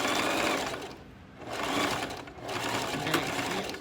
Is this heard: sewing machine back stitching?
yes